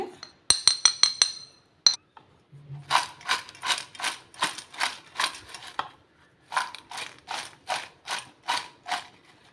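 Fried plantain chips are tossed with masala in a bowl, making a quick run of crisp clinks and then steady, rhythmic rattling bursts as the chips are shaken, close and clear, with short pauses between rounds.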